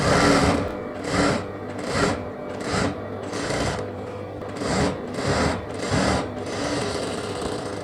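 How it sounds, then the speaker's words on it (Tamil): A sewing machine stitches the folded-in hem of a semi-Patiala salwar pant, its needle whirring in close, loud bursts that repeat roughly every half second over a steady motor drone. "இந்த பிசுரை வந்து உள் பக்கம் போகிற மாதிரி மடக்கி விட்டு இந்த ஓரத்தில் ஊசியோட ஒரு தையல் போடுறேன்"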